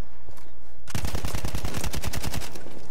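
BAR M1918 Trench automatic rifle in Battlefield 1 fires a loud, close burst of rapid, evenly spaced shots lasting about two seconds after a quiet start, with no talking.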